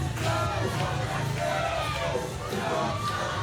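At a wrestling event in Mid-States Arena, a dense indoor crowd roars continuously, with layered cheering, yelling and scattered shouts.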